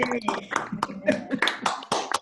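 Participants in an online annual meeting clapping and tapping over their connections, a ragged run of sharp claps and taps with voices talking over the top throughout.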